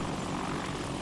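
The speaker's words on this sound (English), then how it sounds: "The Apache AH Mark 1 attack helicopter has just been declared fully operational" Apache AH Mark 1 attack helicopter in flight, a loud, continuous rotor and engine roar that stays steady and close for the whole moment, with no talk.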